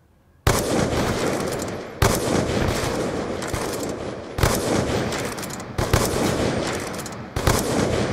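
Sniper rifle gunfire in a video game: five loud, sharp blasts spaced roughly every one and a half seconds, each followed by a sustained roaring tail that fills the gaps between shots.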